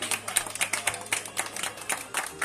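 Clapping from guests at a 50th wedding anniversary celebration for a couple, a quick run of claps close by and at moderate loudness, with no talk over it.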